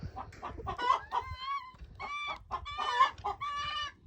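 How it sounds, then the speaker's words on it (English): Free-roaming chicken clucking and squawking repeatedly at close range, a busy run of rising, bright calls with short pauses between bursts, no talk over it. "We still got one chicken just like roaming around out here."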